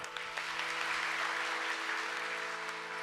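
A large audience at a devotional bhajan gathering claps warmly to welcome guests, a dense, sustained round of applause heard from within the crowd.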